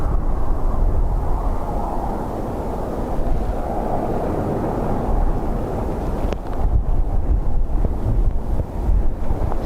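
Strong gusting wind roars steadily across a microphone at Dublin Airport, a dense continuous rush with buffeting bursts that grow rougher in the second half, with no talk.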